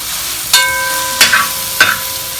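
Small whole shallots frying with ginger garlic paste in a pan for a Kerala-style rabbit roast, a constant loud sizzle broken by three sharp scrape-and-stir clatters, with no voices.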